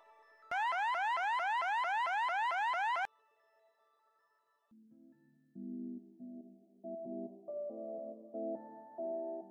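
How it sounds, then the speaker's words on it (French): An Ajax wireless outdoor alarm siren blares loudly with a rapid, repeating warbling wail for about three seconds, then cuts off; a soft electronic melody of rising tones follows after a short silence. "La sirène extérieure garantit qu'aucune alarme ne passe inaperçue."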